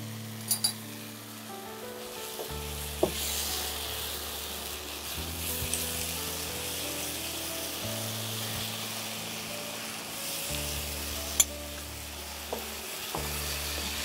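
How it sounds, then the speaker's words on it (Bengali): Lentils fry in a pan for khichuri with a soft, steady sizzle, occasional clinks and scrapes of a utensil, and a low hum in the background throughout. "এবার আমি ডালটা দিয়ে দেবো এর মধ্যে আচ্ছা ডালটা দিয়ে কষাবো একটু"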